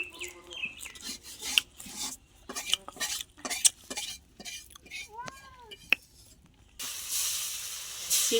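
Chhita roti frying in a karai on a home cooking stove, with clinks and scraping of utensils and a steady hiss of frying that swells near the end, under people talking nearby.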